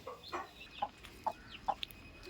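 A mother hen that recently hatched chicks gives about five short, evenly spaced clucks, close and distinct against a quiet background.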